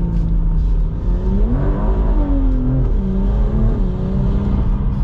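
A 580 hp big-turbo BMW M240i accelerates hard at night, its engine note rising and holding loud and close through a steady, continuous pull.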